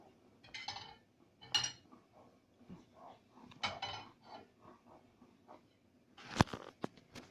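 A spoon stirs a mixture of almonds and lemon zest in a pan, producing soft irregular scraping and clinking strokes, close and quiet, with brief sharper metallic taps near the end.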